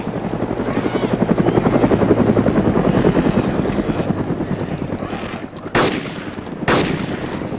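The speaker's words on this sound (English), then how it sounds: "Gonna whip my chopper for that car to come in." A helicopter thumps loudly and close in a multiplayer shooter game, its rotor chop pulsing steadily and then fading, with two sharp bursts of gunfire near the end.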